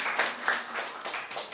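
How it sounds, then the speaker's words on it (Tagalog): Audience clapping at a Filipino sermon or talk, a short burst of scattered hand claps with a few sharper individual claps, fairly close and lively throughout. "Palakpak naman, palakpak naman."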